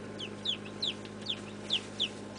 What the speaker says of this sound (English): Stop crying, silly chicks.